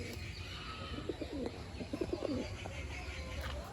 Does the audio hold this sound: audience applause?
no